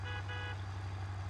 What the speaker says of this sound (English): Horn sounds.